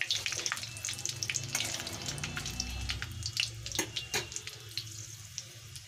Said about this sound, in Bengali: ফোড়নটাকে আমি ভালো করে ভেজে নেব